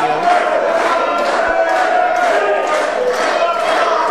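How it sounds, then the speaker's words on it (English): Wrestling crowd at a pro wrestling match between Kurt Robinson and Colby Corino, cheering and chanting steadily in rhythmic swells throughout, loud and dense, with no clear talk on top. "The crowd rallying behind the CEO of the MAT in this match"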